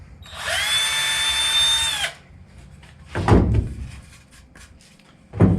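A power drill drives a screw into a countersunk hole in wood for a bed storage platform, with a steady whining run of about two seconds, then shorter bursts of the screw biting and seating, up close.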